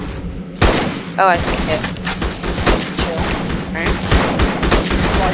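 Explosions and gunfire in a Roblox tower defense game, dense loud booming bursts one after another, with a person briefly speaking amid the din.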